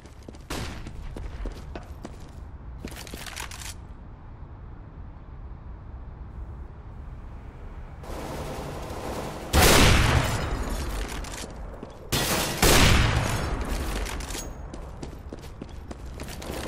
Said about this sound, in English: Fire in the hole! I'm throwing a flashbang.